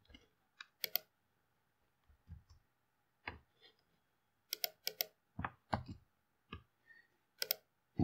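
Sharp, dry mouse clicks while picking a colour with the eyedropper tool in GIMP, heard alone as scattered single and double taps at an uneven pace, close and moderately loud.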